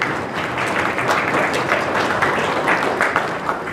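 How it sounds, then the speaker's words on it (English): Steady applause from a crowd at an awards dinner, a close and fairly loud patter of many hands clapping with slight swells throughout. "I think that's deserving of some applause"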